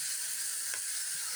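Chicken pieces going into a hot pan, a steady close hiss of sizzling with a faint clack of contact, continuous and moderately loud.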